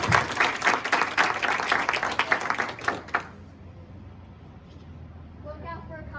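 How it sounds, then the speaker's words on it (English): Audience applause at a mini black belt martial arts ceremony, a few seconds of loud, dense clapping that cuts off abruptly, followed by quiet room tone. "Let's give Jason a round of applause"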